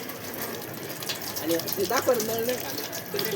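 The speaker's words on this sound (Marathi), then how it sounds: "तर आता मी हात धुणार आहे." Water gushes from a tap as hands are washed beneath it, a steady splashing stream with a person talking over it.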